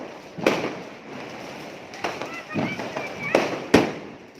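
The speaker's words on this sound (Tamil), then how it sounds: "பட்டாசு தான்" A handful of sharp Diwali firecracker bangs crack out at irregular intervals, the last one loudest, while people talk in the background.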